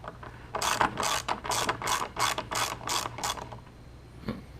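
A hand ratchet works T20 screws out of the headlight of a rolled 2002 Jeep Liberty, clicking in about eight quick bursts of rapid pawl ticks, close and fairly loud, then a lone faint tick after a pause.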